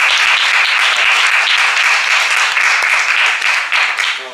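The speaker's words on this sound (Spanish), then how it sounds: "pues un aplauso para él, Javier Riollo." An audience at a film forum talk applauds loudly and steadily, a dense wash of many hands clapping that tapers slightly at the end.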